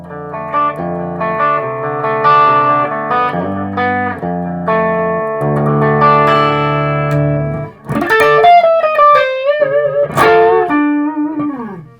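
Distorted Gibson Les Paul Studio electric guitar in drop D tuning, fitted with replacement pickups, playing heavy, dark, bass-rich chords and riffs, then shifting to sustained bent lead notes near the end, loud and continuous with no voices.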